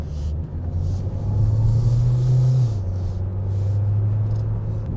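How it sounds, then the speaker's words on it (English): A 2020 Hyundai Sonata Hybrid pulls away from a light, heard from inside the cabin as a low steady drivetrain rumble that rises in pitch as it gathers speed, then settles into a smooth hum. "You can just take your foot off the brake, it'll hold for you, and hit that accelerator and off you go again."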